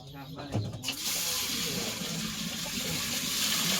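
Cold water is scooped and poured into a pot, a continuous close gush and splash following a few soft knocks, while a voice speaks briefly at the start.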